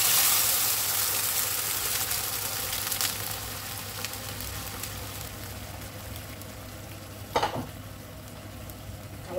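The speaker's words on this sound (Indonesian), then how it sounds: "kita masukkan air mendidih sebagai kuahnya" Boiling water poured into a pan of shallots, garlic and shrimp for a chayote lodeh broth, giving a steady, close hiss and sizzle that fades a little over time, with a brief clatter near the end.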